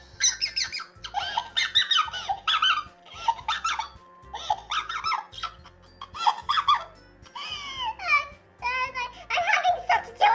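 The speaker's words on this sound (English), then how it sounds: "The voice changer is really fun." A voice changer pitching a person's speech up into a squeaky, helium-like chipmunk voice, chattering in quick bursts with laughs, close and fairly loud over quiet background music.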